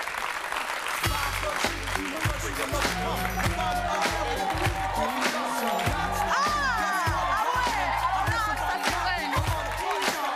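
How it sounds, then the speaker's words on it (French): Loud, dense applause from a large French TV studio audience fills the space continuously, with scattered cheers and voices mixed in throughout. "Applaudissons-le, recevons-le."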